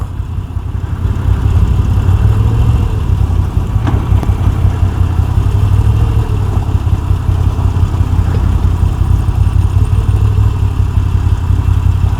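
A Moto Guzzi V7 Stone Centenario E5 motorcycle engine idles steadily at close range, a low rumbling throb that holds constant throughout with no voices.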